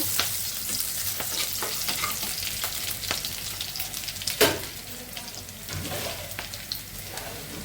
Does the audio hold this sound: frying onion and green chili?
yes